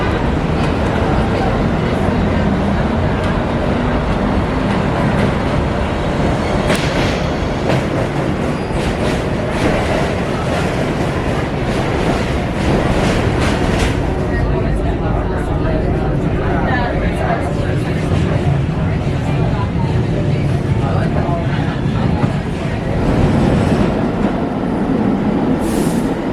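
A New York subway train rumbles and clatters loudly through Queensboro Plaza station, with steady wheel noise, scattered squeals and clicks, and people talking over it.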